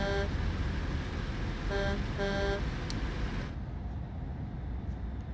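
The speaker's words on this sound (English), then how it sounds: "hearing them constantly honk at us or at the buses" Several car horns in the video game Airport CEO honk in short bursts over a steady rumble of engines and traffic, then stop, leaving the low engine drone.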